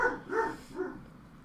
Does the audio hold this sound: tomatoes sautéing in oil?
no